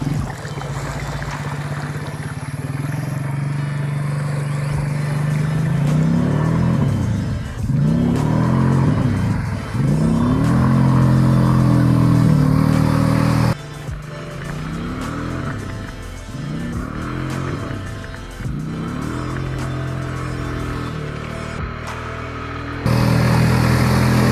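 A car engine revs hard in repeated rising and falling surges near a flooded lake shore, the throttle blipped and held in several bursts with brief cuts between them, loud and close throughout.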